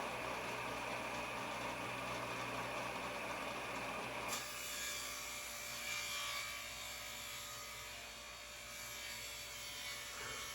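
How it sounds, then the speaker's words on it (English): Table saw ripping 12 by 12 wood strips down into 2-inch pieces: a continuous, fairly faint whining cut with a steady motor drone underneath, shifting in tone partway through, no talk. "I'm taking those 12 by 12 strips and I'm cutting them down into 2 inches"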